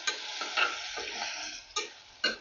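A spoon scrapes and stirs chopped spiny gourd in a pressure cooker, with a few sharper clinks standing out over a soft, steady sizzle.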